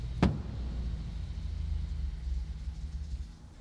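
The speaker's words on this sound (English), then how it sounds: "the car's going to shut off a few seconds later when the fuel pressure dies" A Mercury Topaz engine idles with a low rumble after a sharp smack on the fuel pump cutoff switch in the trunk, then dies away as the fuel pressure fades.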